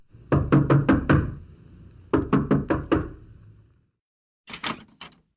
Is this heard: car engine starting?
no